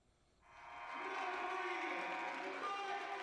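Basketball crowd cheering and applauding as point guard Michael Clemens breaks the ACAC all-time steals record, a roar that swells in after a quiet start and holds loud and sustained.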